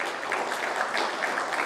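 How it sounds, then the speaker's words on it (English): A round of applause for the speakers at an inaugural conference session, a moderate, even patter of many hands clapping in a hall, steady for the whole short stretch. "I think all our speakers really deserve a big round of applause"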